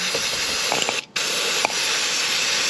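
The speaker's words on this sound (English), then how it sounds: "let's spray everything down. Some brake cleaner." A steady aerosol spray of brake cleaner hisses continuously over a Vespa scooter, briefly pausing once, close to the listener.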